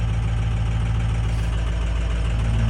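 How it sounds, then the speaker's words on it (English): A worn-out 6-liter diesel engine in an old red truck warming up at high idle, a loud, steady low rumble with an even throbbing pulse, continuous and close with no talk. "you can hear the old red truck out there chooching"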